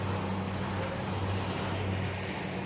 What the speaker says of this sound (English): when the cable car passes this post, it drops